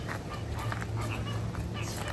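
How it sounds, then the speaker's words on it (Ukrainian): Nasal, goose-like honking calls from a flock of flamingos at a Riviera Maya resort, repeated irregularly and fairly close over a steady outdoor background. "коли тільки ми підходимо до фламінго, вони гельгочуть, як гуси"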